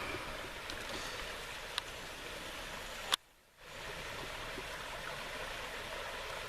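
Fast-flowing creek water running high after a rise, a constant dense rushing hiss heard steadily throughout, broken briefly by a sharp click and a short dropout midway.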